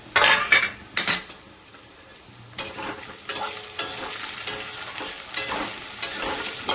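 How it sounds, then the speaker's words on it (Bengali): Potatoes fry in a pan as a utensil stirs them, with sharp scraping clatters and bursts of sizzling up close, then a quieter spell before the rhythmic stirring and crackling resume. "এখন আলু ভাজাটা দেখবো কতটা হয়েছে।"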